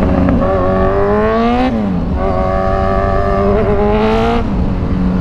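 Kawasaki Z1000 big bike engine revving loud and close, its pitch climbing and dropping through repeated throttle blips over a constant growl, with no talking.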